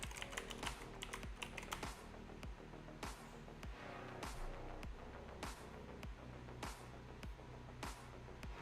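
Keys on a computer keyboard are struck in quick, uneven bursts as a password is entered, with close, crisp clicks and short pauses and no talk.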